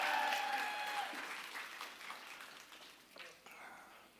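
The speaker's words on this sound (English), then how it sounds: "Give her a round of applause." An audience claps in sustained applause at a real estate talk, loud at first and gradually thinning out over about four seconds.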